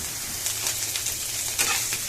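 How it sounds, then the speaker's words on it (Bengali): Shrimp fry in oil in a pan for a Bengali home-cooked meal, a close, steady crackling sizzle with small bursts as the pieces are stirred, and no talking. "এই যে চিংড়ি মাছ ভাজা কমপ্লিট হয়ে গেছে, এবার তেল চুপচুপো হয়ে গেছে"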